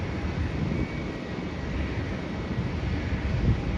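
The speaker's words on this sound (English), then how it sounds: "The next flight that's landing in is a Batik Air flight coming in from Kuala Lumpur." A Batik Air Airbus A330-343 arriving from Kuala Lumpur comes in to land, giving a continuous, fairly close rumbling roar with wind-like hiss and no talking.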